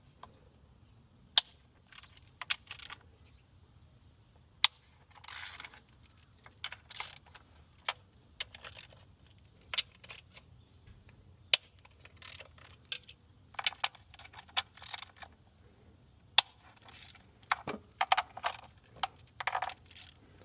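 A socket wrench works valve cover bolts on a 2012 Hyundai Genesis 2.0T engine, giving sharp metallic clicks and ratcheting ticks in scattered bursts with quiet gaps, close and fairly faint.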